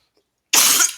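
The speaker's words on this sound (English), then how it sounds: "if you hear her coughing in the background" A single harsh cough bursts out after a moment of silence, close and fairly loud.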